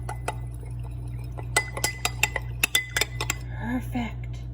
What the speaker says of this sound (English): A little more flour, just a teeny tiny bit. Sprinkle it in, give it another mix.